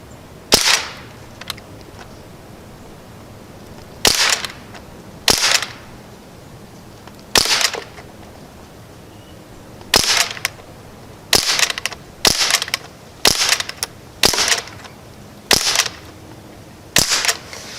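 An air rifle firing RWS Hobby pellets, each shot a sharp, close crack, spaced irregularly across the stretch, some alone and some in quick clusters, over a quiet background with no talking.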